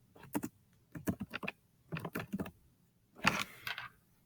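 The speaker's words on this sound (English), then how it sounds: "If I could type correctly." Typing on a computer keyboard while entering text into a slide presentation, with quick clusters of close key clicks in short bursts and pauses between them, ending in a slightly louder flurry.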